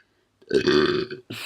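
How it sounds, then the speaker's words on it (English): A single loud, close burp erupts after a brief silence, a throaty voiced croak lasting about half a second and tailing off into a breathy sound. "Oh my god, I need to burp."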